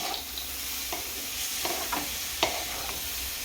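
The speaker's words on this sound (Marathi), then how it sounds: "चला आता ह्या भाज्या सगळ्या आपण आता एकदम मिक्स करून घेऊ हलवून घेऊ" Vegetables including tomato sizzle in a pan with a spoonful of ghee for masala vermicelli or upma, with a steady frying hiss and a few sharp clinks and scrapes of a spoon stirring them.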